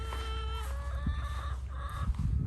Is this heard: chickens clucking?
yes